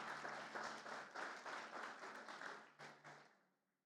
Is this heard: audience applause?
yes